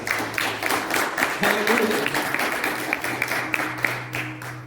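A church congregation claps vigorously and continuously with a few individual claps standing out, while a voice or instrument tones sound faintly underneath.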